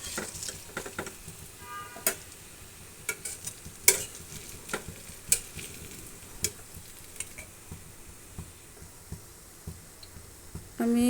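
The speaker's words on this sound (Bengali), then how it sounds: "আমার ভাজা কমপ্লিট হয়ে আসছে।" Palm-fruit fritters frying in hot oil, a quiet continuous sizzle punctuated by sharp clinks and scrapes of a spoon against the pan, ending with a louder bump.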